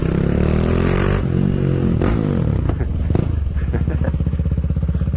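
A KTM Duke motorcycle engine revs hard and close, the pitch climbing and falling through throttle blips with a clattering edge, loud and alone with no talking.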